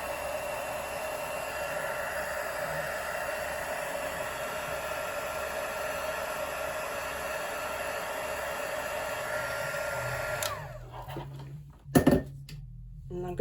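A heat tool blows steadily over ink on a mixed media project, a loud continuous whooshing hum that runs for about ten seconds before switching off with a clunk and a short handling noise.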